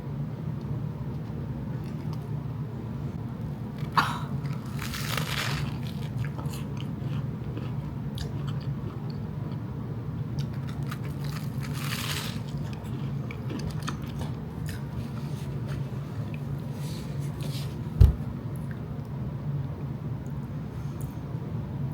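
Someone bites into and chews a thick, messy garlic bread sandwich, producing a few soft crunchy bites and quiet chewing over a steady low background hum, with no talking.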